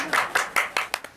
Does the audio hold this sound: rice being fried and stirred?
no